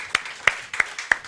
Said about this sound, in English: can we please give him a round of applause from around the globe?